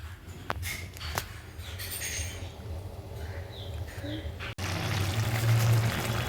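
Water pours into a pan of cooking Malabar spinach stems and vegetables. A steady close trickle runs under the pan's noise and then swells into a louder, fuller rush near the end.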